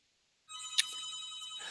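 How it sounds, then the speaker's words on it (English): A phone ringtone starts suddenly and keeps ringing steadily, clear and close, with no talk over it. "I'm going to ignore my phone."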